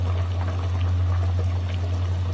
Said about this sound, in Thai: มันนี่ก็น้ำมันเดือดแล้วครับพี่น้อง เดือดแล้ว พุดพุุแล้วนะครับ